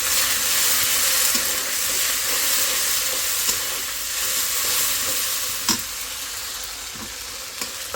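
Ginger garlic paste frying in foaming mustard oil, a loud, continuous close sizzle and hiss with occasional stirring clicks, no talk.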